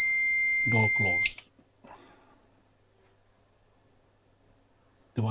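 Pyronix Enforcer alarm keypad giving a sustained high electronic bleep while the system is being set, cut off abruptly, with a person talking over it and again briefly afterwards.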